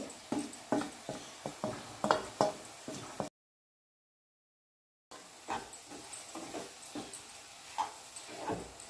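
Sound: stirring spices into bitter gourd curry in a pan

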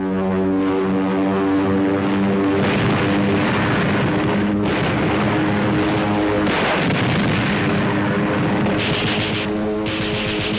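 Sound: aircraft strafing enemy airfields, gunfire and explosions

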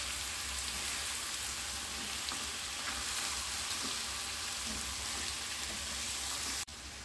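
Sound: vegetables frying in a pan for veg biryani

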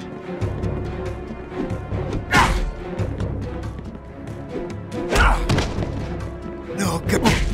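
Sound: punches in a fist fight, Mafia II video game

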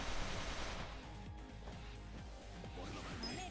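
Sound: gunfire from an enemy's gun in video game Yakuza: Like a Dragon

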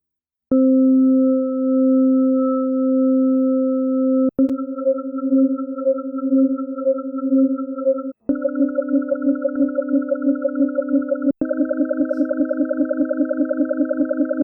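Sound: beating from eleven sine waves with harmonics up to the third

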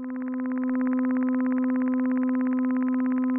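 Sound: wet output of a reverb module

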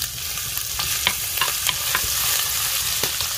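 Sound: garlic frying in lard with pork cracklings

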